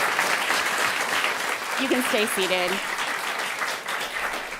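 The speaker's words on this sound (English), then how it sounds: "Please give them a round of applause." Audience applause at a climate action event on food waste, broad steady clapping throughout with a brief spoken remark over it midway.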